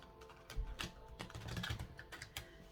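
Oracle cards are shuffled by hand in a series of quick papery riffles and taps, close and fairly quiet, with no voices.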